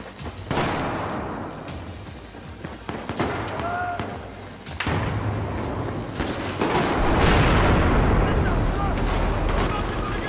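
Shotgun blasts and surrounding gunfire in the video game Battlefield 4 on PS4, several sharp bursts amid a dense, noisy battle mix that swells toward the end.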